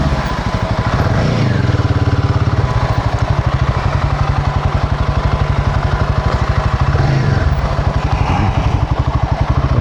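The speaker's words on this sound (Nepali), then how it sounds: "यो बाइक" A motorcycle engine thumps along loudly and close at a steady, rapid rhythmic beat for the whole stretch, with a rough clattering tone and no speech.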